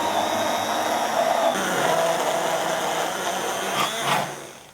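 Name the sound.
whisking egg mixture for sopa baracha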